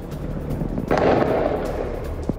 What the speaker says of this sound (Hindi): हमास के लड़ाकों की आईडीएफ के ऊपर फायरिंग की तस्वीरें